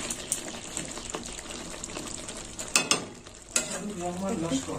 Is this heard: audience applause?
no